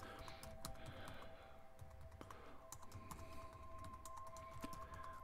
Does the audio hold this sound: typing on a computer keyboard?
yes